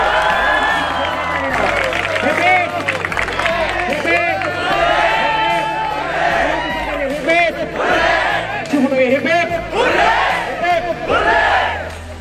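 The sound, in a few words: students loudly applauding and cheering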